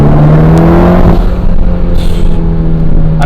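A 400 bhp Mitsubishi Evo X with a snow camo wrap accelerates hard on a track lap, its engine a loud, close, sustained droning roar that rises steadily, heard from inside the car.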